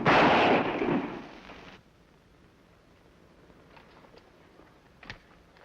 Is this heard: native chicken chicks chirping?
no